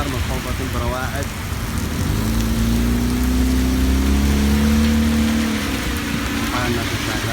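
Rain pours steadily on a New York City street during a thunderstorm, a close continuous hiss overlaid midway by a passing vehicle's droning engine tone.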